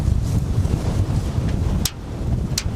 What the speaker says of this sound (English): it is windy, of course.